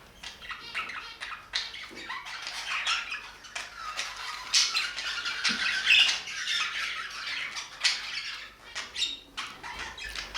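Budgerigars squawk and chatter during a fight in a bird room, a continuous flurry of harsh, scratchy calls and sharp chirps at close range, with no talking.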